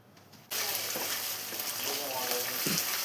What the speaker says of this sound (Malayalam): ഇനി ഇതേ വെളിച്ചെണ്ണയിലോട്ട് നമുക്ക് മുരിങ്ങയില കൂടെ ചേർത്ത് കൊടുക്കാം. ഇത് ഇനി ഓയിലിൽ കിടന്നൊന്ന് കുക്കായി വരണം.